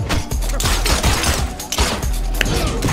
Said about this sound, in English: Double gunshot revolver.